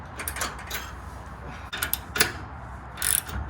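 A ratchet clicks in short close bursts while running board bolts are tightened on a 2021 Toyota Tacoma TRD Off Road Double Cab, a few quick ratcheting runs with brief gaps.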